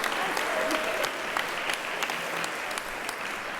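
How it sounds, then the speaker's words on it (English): Audience applause fills an opening session at a university, steady dense clapping sustained throughout at close range, with a brief murmur of voices underneath. "You can clap for that."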